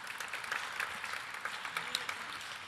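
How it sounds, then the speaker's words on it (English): Audience applause for a speaker at a dean's welcome-back soirée, a continuous crackling patter of many hands, fairly soft and distant, with no talking over it. "So please, a round of applause for Jim."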